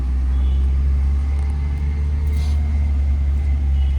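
A car moving slowly through a narrow lane, a steady low engine rumble with a faint rise, close and continuous without clear talk.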